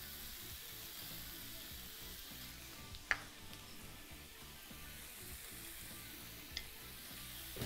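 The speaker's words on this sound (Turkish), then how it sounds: "Kıymayı ekledikten sonra da kontrollü bir şekilde eze eze küçük küçük parçalar halinde pişirmeye çalışıyoruz." Ground meat and onions sizzle and fry steadily in a pan, seasoned with salt and black pepper, while the mince is pressed into small pieces. A couple of sharp clicks of a spoon or spatula cut through the constant crackle.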